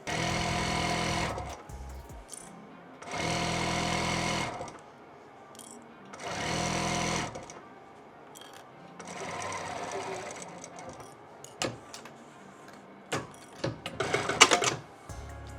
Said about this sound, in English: I just got my new sewing machine not too long ago, and it is very powerful and very scary.